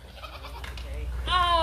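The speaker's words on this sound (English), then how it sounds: "So we're going in here with the goats." Goats in a farm enclosure let out a single loud, wavering bleat near the end, preceded by quieter background rustle and a voice.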